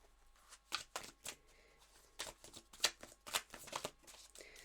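Tarot cards being shuffled for a reading, a series of crisp riffling bursts in irregular clusters, close and fairly quiet with brief pauses between handfuls.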